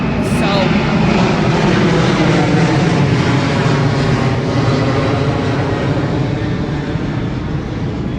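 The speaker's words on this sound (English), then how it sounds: "it just went by. It was an airplane." A loud, steady roar of an airplane passing overhead, a broad continuous rumble that holds for several seconds without fading much.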